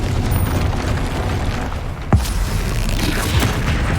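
A Confringo fire spell explodes in a Harry Potter wizarding video game: one short loud boom and burst over a dense, constant layer of game music and effects.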